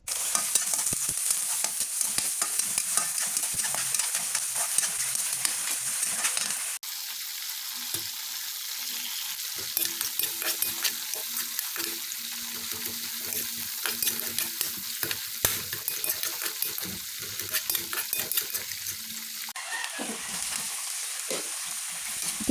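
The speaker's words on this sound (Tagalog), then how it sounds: "Tara at kisayin na natin yung ating bawang sibuyas." Garlic and onion sautéing in a pan, a steady crackling sizzle with busy stirring clicks that shifts in tone partway through and runs long and close.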